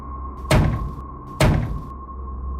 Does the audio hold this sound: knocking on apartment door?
yes